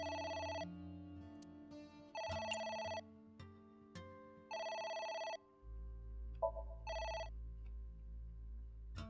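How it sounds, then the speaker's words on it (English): A telephone rings in the video game AI: The Somnium Files, with four long electronic ring bursts separated by short pauses, clear and alone over soft game music. "It's the phone."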